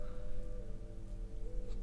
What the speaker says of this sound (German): Mitten in der Nacht, Regen, Sturm, mitten im Wald.